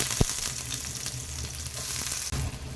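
Chopped onions fry in hot oil with mustard seeds in a heavy-bottomed iron kadai, giving a steady, fairly quiet sizzle and crackle with a few small pops and no talking.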